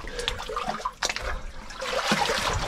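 Water trickling and splashing inside an old underground mine passage, a steady wet wash with brief louder gushes, close by and echoing, with no talking.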